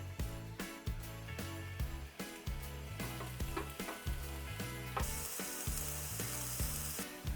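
Steady crackling sizzle of chicken and mushrooms frying in a pan, with rhythmic scraping and stirring thumps throughout, no voices.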